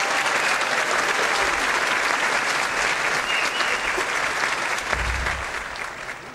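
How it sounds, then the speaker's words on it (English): Applause from an audience for pianist Dean Mora, a full, dense wash of clapping that holds steady for several seconds and then begins to taper off near the end. "how about a big round of applause for the master of the keys here"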